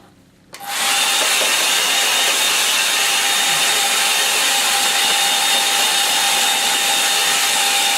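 A hair dryer switches on and blows steadily over a watercolour landscape painting, a loud close whooshing roar with a constant whine that holds evenly to the end.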